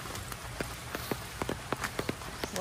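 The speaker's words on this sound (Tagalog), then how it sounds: "Hindi huminto yung ulan, ano?" Steady rain falls outdoors at a Batangas farm at night, a constant wash of patter with scattered louder drips and taps striking nearby surfaces, with no voices.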